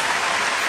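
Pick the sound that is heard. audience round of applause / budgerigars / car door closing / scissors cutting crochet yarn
audience round of applause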